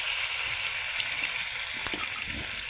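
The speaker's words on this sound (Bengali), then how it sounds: "পোস্ত আর কাজু বাদাম বেটে রেখেছিলাম, দিয়ে দিলাম।" Poppy seed and cashew paste going into a spicy snakehead fish curry in a village kitchen, with a steady broad sizzle of hot oil throughout and a few soft splats and stirring knocks near the end.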